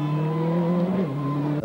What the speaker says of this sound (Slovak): Lahôdka pre oči aj uši Ford Escort VRC.